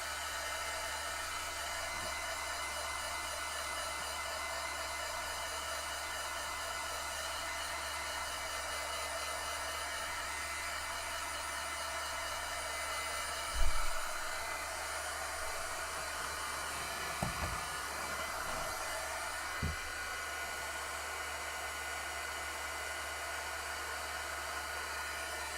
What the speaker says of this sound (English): And I'm going to heat set it, okay? I want it to dry.